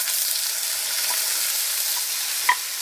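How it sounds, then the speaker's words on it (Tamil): Already-cooked beans and carrots frying lightly in oil with mustard seeds for a Tamil beans poriyal, giving an even, continuous hiss close by, with one small clink near the end. "நல்லா லைட்டாக எண்ணெயில் ஃப்ரை பண்ணிட்டுருக்கோம்"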